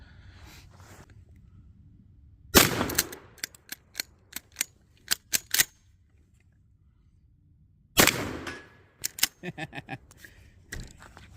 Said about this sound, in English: I'm going to hit those two blue targets I flipped up with that 4 shot, see how hard it hits it.